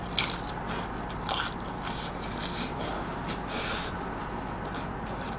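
Someone bites and chews a large deep-fried cheese stick with a crispy coating and a sweet potato and cheese filling, giving close, continuous crunchy crackling throughout.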